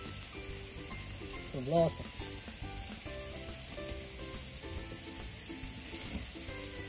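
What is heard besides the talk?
steak sizzling as it fries in a pan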